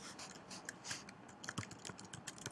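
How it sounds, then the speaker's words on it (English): Faint, irregular clicks of typing on a computer keyboard, a few keystrokes at a time with short pauses, in an otherwise quiet room. "I'm going to start typing."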